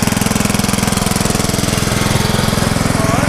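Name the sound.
small tractor engine driving past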